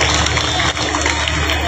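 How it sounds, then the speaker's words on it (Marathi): An audience claps together at the Aamhi Bhiwandikar women's festival in Bhiwandi, a dense, steady wash of applause and crowd noise lasting the whole moment without a break. "एकदा टाळ्या वाजवा जर तुम्ही महोत्सवाचा आनंद घेतला असेल तर"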